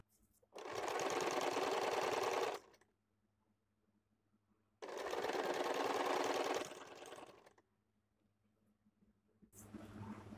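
A sewing machine stitches a blouse seam in two sustained runs of a couple of seconds each, then starts a third, with quiet pauses between the close, steady whirring bursts.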